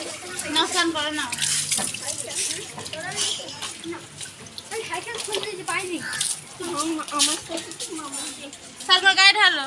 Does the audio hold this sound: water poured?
yes